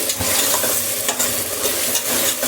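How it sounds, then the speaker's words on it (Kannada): Ground masala paste for a tondekai bath frying in a pan, stirred with a spatula in repeated scraping strokes over a constant close sizzle, with no talking. "ಮಸಾಲೆ ಹಾಕ್ಬಿಟ್ಟು ಚೆನ್ನಾಗಿ ಫ್ರೈ ಮಾಡಿ"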